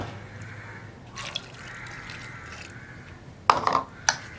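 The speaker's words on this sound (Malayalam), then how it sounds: "ചേനയുടെ മുകളിൽ നിൽക്കുന്ന അളവിൽ വെള്ളം ചേർത്ത് നമുക്ക് കുക്ക് ചെയ്യാൻ വയ്ക്കാം." Water poured into a pressure-cooker pot of salted elephant foot yam for curry, soft splashing with a couple of brief louder pours near the end, heard close with no talk.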